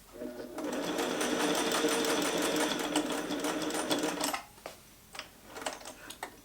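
A Singer 401A vintage sewing machine stitches a bar tack through webbing, a rapid close mechanical chatter running steadily for about four seconds before stopping, followed by a few quiet clicks and handling sounds.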